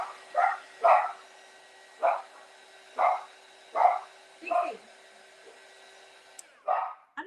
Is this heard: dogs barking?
yes